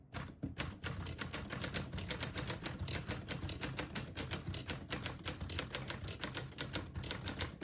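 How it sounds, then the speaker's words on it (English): A 1939 Corona Standard Flat Top portable typewriter is typed on in a quick, steady run of crisp key strikes, close and distinct, with no talk. "The typewriter is beautiful. Very nice print."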